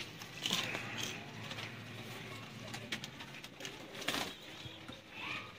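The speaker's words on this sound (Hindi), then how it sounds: "फ्रांसीसी कबूतर" French pigeons cooing at moderate distance in a loft, soft repeated coos with occasional wing flutters and rustling against a steady background hiss.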